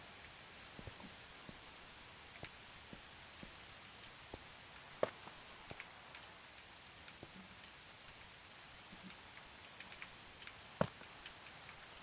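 Steady soft rain falls in a Minecraft world, a quiet even hiss with faint scattered drip-like ticks and a couple of sharper clicks, no talking.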